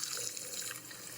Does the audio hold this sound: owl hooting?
no